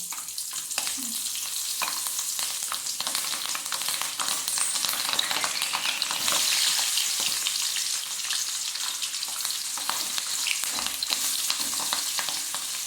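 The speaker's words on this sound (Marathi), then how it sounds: "फ्लावर भजी तळून घेतलेले आहे आपण, बघू शकता तुम्ही." Cauliflower bhaji fritters deep-frying in hot oil, a steady, dense sizzle and crackle running throughout at close range with no talking.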